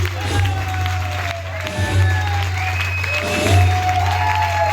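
Applause from a crowd at a network marketing event, a continuous spread of clapping over a low steady hum, with some faint voices and brief cheering mixed in.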